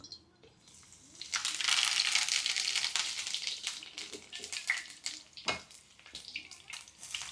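Steady crackling sizzle of dried shrimp frying in hot coconut oil, loud and close, with scattered pops and stirring scrapes throughout.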